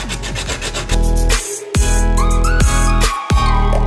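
Rhythmic rasping strokes of a small date pit being sanded with sandpaper, loud and close, repeating in quick passes with short pauses between.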